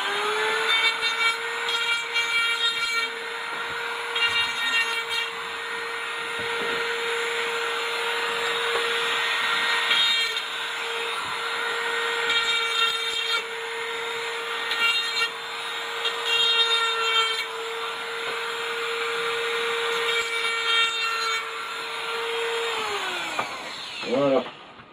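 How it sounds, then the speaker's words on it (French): An angle grinder's grinding disc works over a metal tube being prepared for a smoke device, a steady loud high whine with brief surges that runs unbroken for nearly the whole stretch, then winds down at the end. "Et je vais finir par un petit coup de meule."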